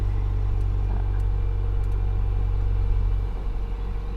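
A 2021 Volvo XC90 Recharge T8 plug-in hybrid's gas engine runs steadily in Polestar mode, a deep, even low rumble close by that eases slightly near the end, with no talking.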